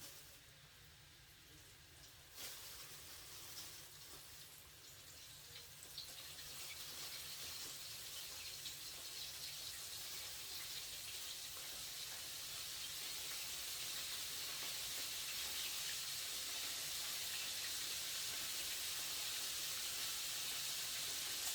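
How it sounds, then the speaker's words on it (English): Chicken pieces fry in hot oil in a wok, a steady hissing sizzle that grows slightly louder and denser as it continues, with no talk over it. "Yep, it's frying."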